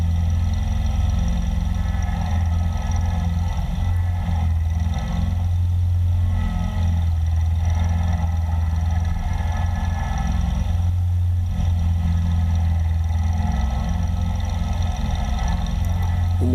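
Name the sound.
tractor engine running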